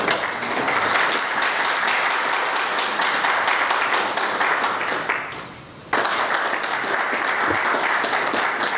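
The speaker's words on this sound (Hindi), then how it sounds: "मैं जोरदार तालियों से आपका स्वागत करना चाहूँगा सर" Loud sustained applause from a crowd at an industrial convention welcoming a guest, dense clapping that dips briefly before surging back.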